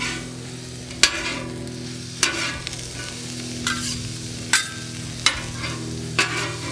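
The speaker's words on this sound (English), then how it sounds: "I don't think there's anything better than cooking onions and peppers on the flat top." Onions and peppers cooking on a flat top griddle, a steady sizzle with a low hum beneath and sharp metal spatula scrapes and taps every second or so, up close.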